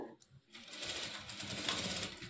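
Electric sewing machine running steadily after a brief pause, stitching a sleeve onto a work blouse; a continuous close, buzzing whir carries on for about two seconds with faint voice hints beneath.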